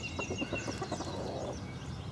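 Chickens cluck and murmur close by in short, irregular bursts over a steady background hum, with no one speaking.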